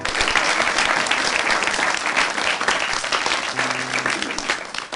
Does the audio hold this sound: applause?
yes